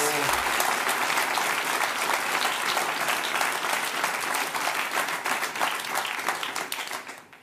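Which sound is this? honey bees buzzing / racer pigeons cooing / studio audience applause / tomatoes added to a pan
studio audience applause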